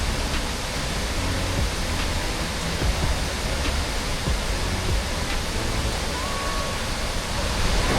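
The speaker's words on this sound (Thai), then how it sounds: "ที่เป็นน้ำตกไหลลงมาตรงช่อง ระหว่างต้นไม้สองต้น" Haew Suwat waterfall in Khao Yai National Park roars continuously, a dense, steady rush of falling water heard close and loud throughout, with no pauses or voices breaking through.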